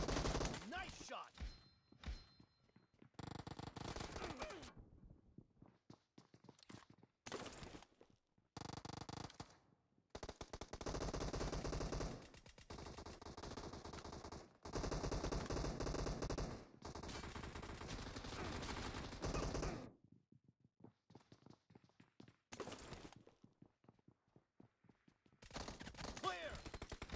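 Gunfire in the PUBG video game, long stretches of loud, sustained automatic fire broken by short gaps and sudden stops.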